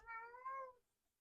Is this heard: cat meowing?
yes